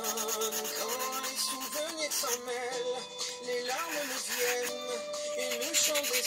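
Hand sanding of a wooden boxer, steady rhythmic rubbing and scraping strokes of abrasive on wood, close and continuous with no talk.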